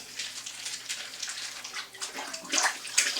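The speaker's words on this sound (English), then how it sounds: "in the water you're going to scrub, scrub, scrub, scrub, scrub." A stain is scrubbed in warm water with vinegar and baking soda, making continuous splashing, sloshing water sounds with repeated scrubbing swishes, close and moderately loud.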